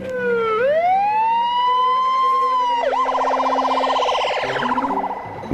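A loud, close ambulance siren wails, sweeping up and holding, then breaks into a faster warbling pattern. No one speaks.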